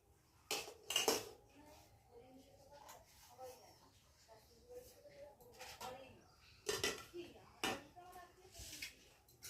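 Utensils clink and scrape against a plate in a few sharp bursts as food is served, with quieter handling sounds in between.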